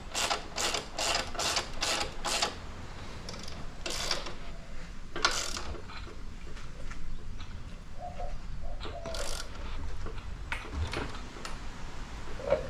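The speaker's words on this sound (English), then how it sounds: "So we will tighten our axle up. Just again with the two 18 millimeters." Wrench tightening the 18 mm axle nuts on a modified 72V Razor electric scooter, a quick run of close ratcheting clicks followed by scattered clicks and light mechanical handling.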